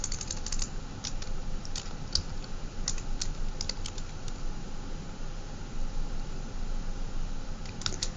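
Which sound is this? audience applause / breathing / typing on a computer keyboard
typing on a computer keyboard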